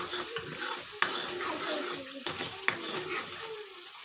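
Egg curry masala is stirred in oil in a pan, a spoon scraping steadily over a soft sizzle, with two sharp clinks of metal against the pan.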